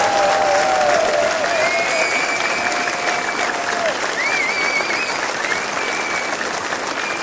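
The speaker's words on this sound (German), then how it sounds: "Geben Sie sich noch einen riesen Applaus" Concert audience applauding a performer at a large show, a loud sustained roar of clapping that fills the hall evenly from start to finish, with faint tonal sounds ringing above it.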